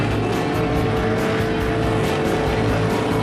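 A dirt-track sprint car, the number 04, racing at speed in a heat race, a loud continuous engine roar with rapid pulsing and a close, steady intensity throughout.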